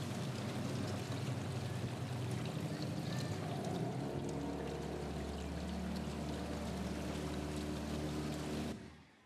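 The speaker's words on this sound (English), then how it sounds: "We drive down the river in a boat at night with a spotlight" A motorboat engine rumbles steadily with rushing water alongside as it drives down a river at night, holding constant before cutting out abruptly at the end.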